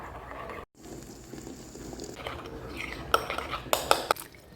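Spoon stirring strawberry whey protein into Greek yogurt in a bowl, soft scraping then a few sharp metallic clinks of cutlery against the dish, close and fairly quiet with no talk.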